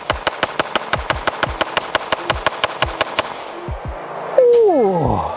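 An FN Five-seveN MRD pistol is fired in a rapid mag dump: about twenty loud, sharp shots at an even, quick pace, followed by a tail of echo and a brief whistling sound.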